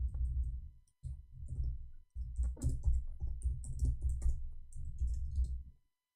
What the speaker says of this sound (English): I will give you an example while I'm typing in English.